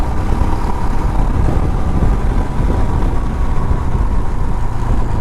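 A car drives along a smooth road, giving a steady low rumble of engine and tyre noise from inside the cabin, unbroken and without speech.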